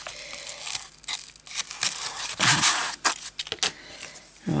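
Paper for a junk journal is cut and torn apart close by, rustling crinkles and sharp tearing bursts coming in uneven spurts with quiet gaps between.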